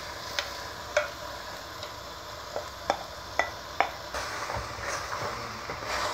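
Chicken with peppers, garlic and tomatoes stirred in a pan: a soft simmering sizzle under a series of sharp utensil taps and scrapes against the pan, close and moderately quiet, no talking.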